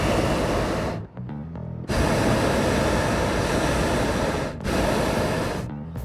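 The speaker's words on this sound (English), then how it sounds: "That sound you hear? Yeah, that's a hot air balloon." Hot air balloon burner roaring as a loud, steady broadband blast, cut off briefly twice before firing again, close by and with nothing else audible.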